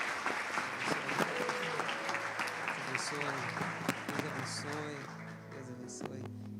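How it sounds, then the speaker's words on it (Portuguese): A church congregation applauds during a Portuguese-language celebration service, steady clapping from many people with voices and sung tones running underneath. "Você pode aplaudir Jesus pela vida?"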